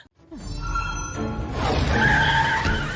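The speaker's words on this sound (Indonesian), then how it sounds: "Xiao Bai pun mengeluarkan tunggangannya yang sempat viral dulu guys. Ya, itu adalah mobil eskapator" A tire skid from an escalator car in a Chinese donghua animation: a loud, close screech that builds and holds for about two and a half seconds over engine rumble.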